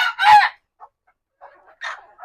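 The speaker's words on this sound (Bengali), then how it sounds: "মুরগি আমাদের এখানে চব্বিশটা রয়েছে আর তার সাথে তিনটা মোরগ আছে" Native chickens and roosters in a coop: a loud close squawk opens, followed by scattered clucks and a short cackling burst, with gaps of quiet between calls.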